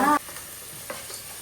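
Masala sautéing in a pan, likely in coconut oil for a fish curry, gives a soft continuous sizzle after a brief scrape of stirring, with one more faint stir near the end.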